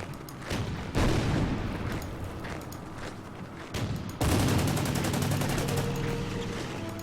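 Weapons fire in the Order of Battle: Sandstorm war game during a desert battle at Alam el Haifa, with dense, loud bursts of gunfire and booming blasts, then a continuous rattling volley.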